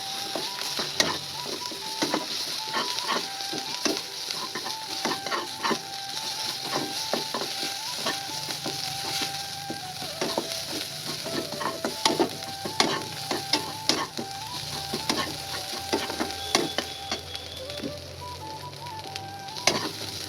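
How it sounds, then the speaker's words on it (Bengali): Cumin, mustard seeds and chilli paste fry in a pan in a village kitchen, sizzling steadily while a utensil scrapes and clicks in frequent sharp stirring strokes, without any voices. "এবারে দিয়ে দিচ্ছি জিরে, সরষে আর লঙ্কা বাটা।"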